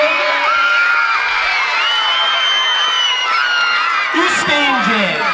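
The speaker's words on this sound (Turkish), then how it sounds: "Şimdi çığlık istiyorum." A crowd of primary school children at a 23 April school festival with a sack race cheer and scream together, a loud dense wall of high shrieks and whoops that stays full throughout, with a few lower shouts near the end.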